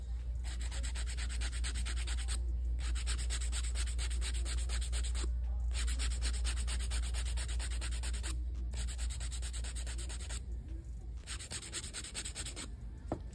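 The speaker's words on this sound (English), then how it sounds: "Now I'm going to start filing my sides first." Nail file rasping along the sides of fingernails, fast rhythmic scratchy strokes in long runs broken by short pauses, close and steady over a low background hum, no talking.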